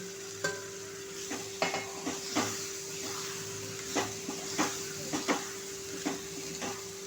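Ground masala paste of peanut, coconut, garlic, green chilli, coriander and coriander seed frying with eggplant in a pan: a steady low sizzle broken by about a dozen sharp scrapes and clinks of stirring, close and alone with no talk.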